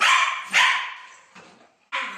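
A dog barks close by, three or four sharp, fairly loud barks spaced apart over a couple of seconds, with no one talking.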